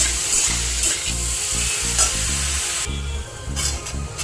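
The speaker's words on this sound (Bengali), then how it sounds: "একটু খানিকক্ষণ ভাজতে হবে এটায়।" Salted bottle gourd fries in a pan with a constant bright sizzle, broken by rhythmic scraping and stirring strokes, heard close and with no talking.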